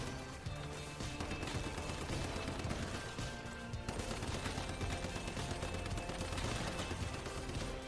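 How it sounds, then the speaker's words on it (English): Rapid gunfire in the Once Human video game, sounding as a continuous stream of loud close shots and bursts over a busy, dense game soundscape, with no pause and no voices. "Finish this guy off with our gun."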